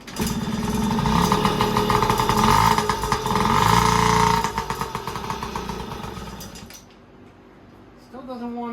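Yamaha PW50 dirt bike engine running with a buzzy two-stroke note, revving steadily, then sagging and nearly dying as it struggles to idle before picking back up near the end.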